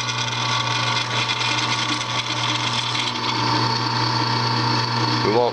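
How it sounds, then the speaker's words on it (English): A drill press at its lowest setting, 250 RPM, whirs steadily with a grinding, rattling whine as the bit cuts into steel, close and continuous, with a brief squeal near the end. "This is on the lowest setting of the drill press, 250 RPM."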